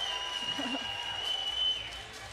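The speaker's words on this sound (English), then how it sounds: "As the crowd cheers" At an international axe throwing championship, a crowd cheers and applauds in a sustained indoor roar while a commentator talks over it.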